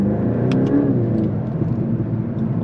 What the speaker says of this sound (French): On entend le turbo qui souffle